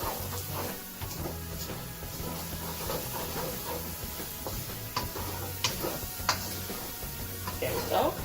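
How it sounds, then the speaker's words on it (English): Onions and garlic are stirred in a hot pan for beef fried rice, a steady sizzle with a low hum beneath and occasional spoon taps against the pan. "So we want to stir it around and get all that stirred up in there like that"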